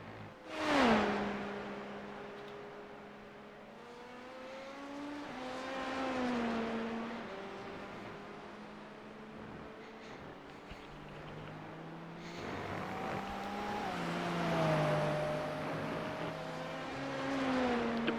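A race car at Le Mans brakes into a chicane and then accelerates away, its engine pitch sweeping down and rising again through the gears, heard from a distance across the track.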